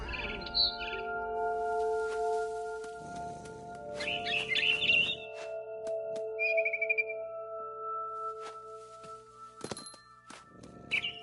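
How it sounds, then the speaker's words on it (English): A barn swallow in the game What Remains of Edith Finch gives scattered bright chirps and tweets, set against a steady tonal hum, with soft thuds like footsteps in between. "It was a barn swallow going back to her nest."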